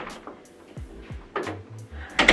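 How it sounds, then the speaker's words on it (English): An indoor door is pushed shut with a few soft knocks and thuds, followed by a sharper bang near the end, close by with no talking. "I'm gonna close this door so you can't run."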